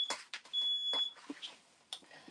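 A new home smoke alarm sounds, a few short high electronic beeps among clattering and rustling room noise.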